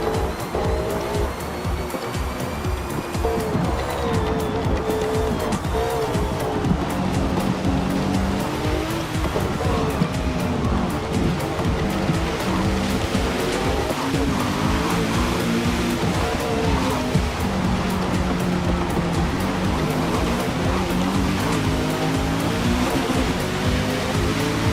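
A Porsche 911 GT2 in a racing video game runs on with its engine note muffled, a sustained whooshing turbo and droning car sound with squealing tires, steady and loud throughout.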